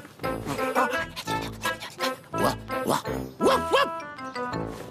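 A cartoon cat's voice mimics a dog's barking with a string of yips and bow-wows, loud and close, some barks rising in pitch.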